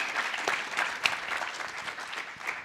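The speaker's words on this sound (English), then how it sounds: "Please give Hannah Halbert a round of applause" An audience at a plenary session on worker power and civic engagement in Ohio claps steadily. The applause sounds fairly distant and soft, with a dense patter of individual claps.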